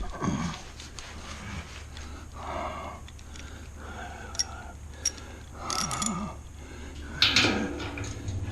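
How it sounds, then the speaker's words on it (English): Ratchet wrench turning bolts while an Oklahoma Joe's smoker is assembled: quiet intermittent clicking and mechanical rattles in short bursts, with occasional sharper metallic taps and some breathing. "Where's my ratchet?"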